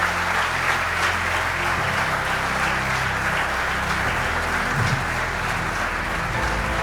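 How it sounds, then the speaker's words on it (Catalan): Steady, loud applause rolls through the crowd at a municipal sports awards night, with a low droning hum underneath and no clear speech. "un aplaudiment per tots vosaltres per la feina que feu"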